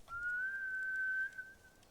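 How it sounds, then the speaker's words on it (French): A single sustained whistle calling samurai horses back in the video game Ghost of Tsushima, one steady rising then level tone lasting under two seconds, clear and alone against a quiet background. "On va les siffler."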